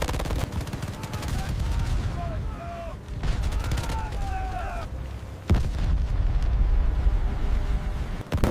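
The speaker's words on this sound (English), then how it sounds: "The explosions were devastating, but the defense held firm." Naval battle combat with explosions and gunfire around an aircraft carrier under attack, a dense continuous roar of blasts and firing with a sharp loud burst midway, amid battle noise and possible voices.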